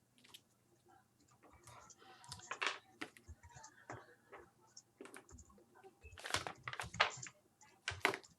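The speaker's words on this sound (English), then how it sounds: "And I'm typing it out now" Someone types in bursts on a computer keyboard, giving quiet, irregular clusters of clicks and taps with soft background murmur between them.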